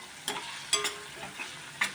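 Moringa drumsticks are stirred with spices in hot oil for a Gujarati curry, with a constant soft sizzle and several sharp spoon scrapes and clinks at irregular intervals.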